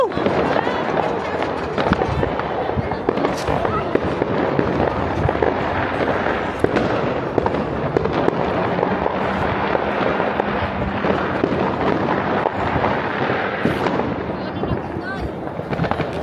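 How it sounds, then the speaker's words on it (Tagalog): New Year fireworks bursting in the distance from a town plaza, a dense rapid crackle of pops and bangs running continuously, mixed with nearby voices and cheering. "Nanood kami ng mga fireworks."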